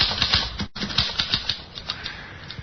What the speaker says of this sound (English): Here's a typewriter.